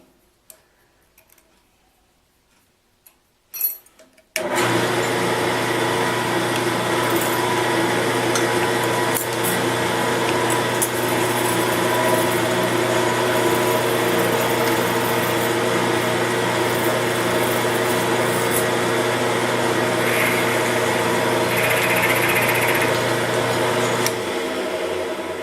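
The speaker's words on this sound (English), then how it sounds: "Now what I'm going to do is touch down with my milling cutter." Milling machine running steadily with its cutter lowered to touch down on a workpiece propped on machinist jacks; a constant loud motor whine and hum that starts abruptly after a few seconds of near silence and holds throughout.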